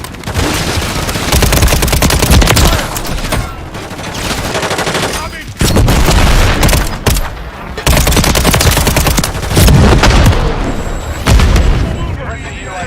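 A stun grenade goes off in a military shooter video game, one heavy boom amid loud, dense bursts of automatic gunfire, with game voice callouts over the top.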